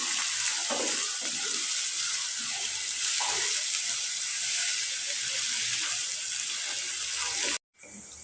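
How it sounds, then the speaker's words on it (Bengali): Sliced onions frying in a pan with a little sugar for crisp beresta, a loud continuous sizzle that runs almost unbroken before a brief cutoff near the end. "ভালো করে আমি এটা ভাজে নিব চিনি দিলে পেঁয়াজটা মশমশা হয়"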